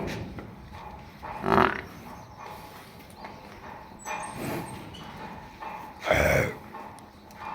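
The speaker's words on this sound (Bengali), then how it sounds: "এই যে বাচ্চা গরু, এগুলা হচ্ছে বড় গরু।" Cattle on a farm in Oman give two loud lowing calls, with a fainter one between them, over a steady outdoor background murmur.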